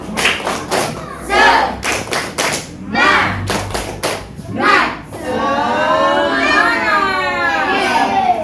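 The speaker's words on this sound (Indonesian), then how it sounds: "Tepuk semangat." Elementary schoolchildren in a fifth-grade classroom doing a rhythmic spirit clap, with loud group claps and chanting in bursts close by, followed by children's voices talking together.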